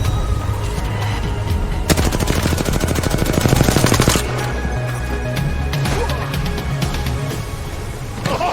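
Rapid automatic gunfire from the video game Apex Legends, a loud, dense stream of shots with a sustained burst in the middle over constant game sound and music.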